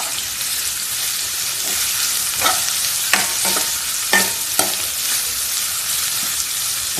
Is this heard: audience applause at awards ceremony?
no